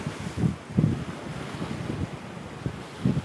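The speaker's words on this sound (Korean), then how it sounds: "이 바람" Strong wind blows by the open sea during yellowtail amberjack fishing off Maemuldo. Gusty roaring buffets the microphone over the wash of waves in short, uneven surges, with no voices.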